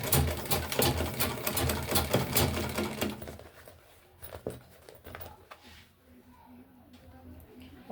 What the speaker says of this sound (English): So we're stitching on that straight line.